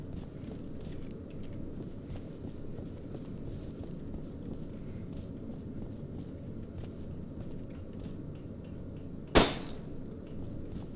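Bulletproof glass struck in the video game F.E.A.R. 2: a single sharp, loud impact crack near the end, over a constant low ambient hum and faint ticking, without speech.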